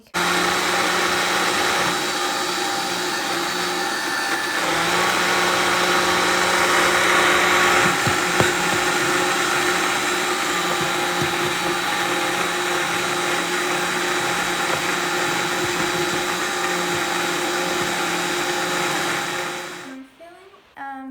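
A stick blender crushes cashews in a kitchen, a loud continuous whirring motor grind that runs steadily for about twenty seconds before cutting off.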